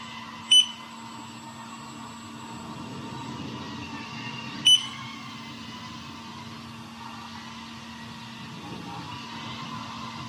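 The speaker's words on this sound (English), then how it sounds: "I think the goggles next to me are beeping, the battery is low." Two brief low-battery beeps from FPV drone goggles sound about four seconds apart over a steady low hum.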